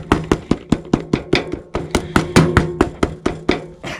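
A small hammer strikes a still-warm mirror sole protector being fitted onto Maison Margiela split-toe boots, giving about twenty quick, even taps close by, each a sharp knock without any voices.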